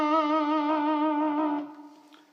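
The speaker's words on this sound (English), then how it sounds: "Vibrato, on the other hand, it sounds like this and also looks like this." Electric guitar note held with wrist vibrato, its pitch wobbling evenly and steadily for about a second and a half before the note cuts off and a faint tail rings out, played alone with slight effects coloring.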